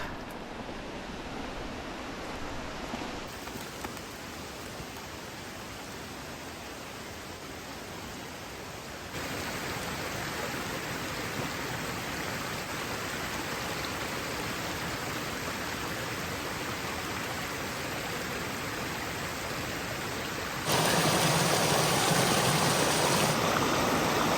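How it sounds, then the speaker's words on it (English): Broad, steady rush of flowing water from a stream on a warm winter day, loud and close, with the wash growing brighter and stronger toward the end and no talk over it. "there's a stream right here, so I'm gonna go grab me some of that"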